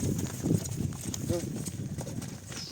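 Percheron horse hooves clip-clop at a slow walking pace, fairly close, while people talk over them.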